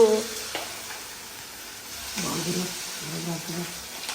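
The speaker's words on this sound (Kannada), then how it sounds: "ನಿಧಾನಕ್ಕೆ ಹಾಕು ನವೀನ್ ಎಣ್ಣೆ ಆರ್ಬಿಟ್ಟದು" Food frying in hot oil in a home kitchen, a soft steady sizzle with occasional stirring clatter and a brief clink near the start, while people talk intermittently in the background.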